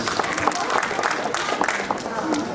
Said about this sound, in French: Allez, vous pouvez l'applaudir très fort aussi